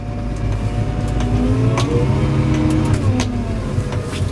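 A Case Maxxum 140 Multicontroller tractor's steady engine drone with shifting harmonic tones as it changes driving direction, a continuous mid-pitched mechanical rumble close by, no talking.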